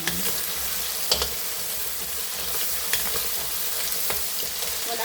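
Fried rice sizzling steadily in a hot pan, a dense continuous crackle with occasional scrape and stir clicks, close up and without talk.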